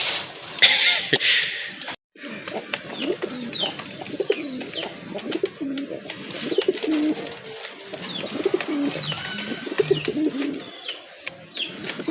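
Pigeons on a farm coo in repeated throaty bursts, several birds overlapping close to the microphone, with wing flutters and rustles in between.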